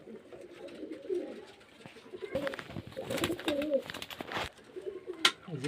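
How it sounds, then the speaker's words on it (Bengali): Murshidabad Giribaz pigeons kept for sale coo repeatedly at close range, with soft rolling calls overlapping, alongside rustling, wing flutters and a few sharp knocks. "সব মুর্শিদাবাদের গিরিবাজ লাইনে পায়রা পায়রা দেখতে পাচ্ছেন এই যে খুব সুন্দর সুন্দর পায়রা আছে"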